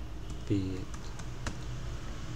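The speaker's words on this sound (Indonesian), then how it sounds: "Ini kita ketik saja" Quick keystrokes on a computer keyboard, a short run of light, close clicks alongside a brief bit of voice.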